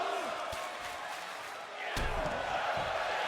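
A wrestling arena crowd in WWE 2K24 roars as a loud, steady wash of cheering, with a sharp slam cutting through partway and a commentator talking over it.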